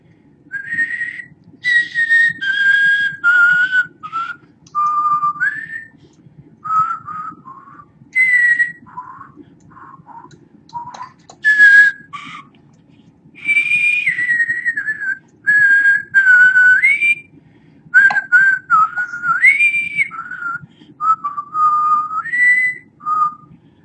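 Someone whistles the theme from The High and the Mighty close up, clear sustained notes in phrases with short pauses between them, over a faint low hum.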